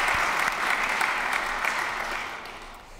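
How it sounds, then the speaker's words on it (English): An audience at a finance conference in a Baroque castle applauds Queen Máxima of the Netherlands, a steady wash of clapping that fades gradually toward the end. "I guess you can applaud."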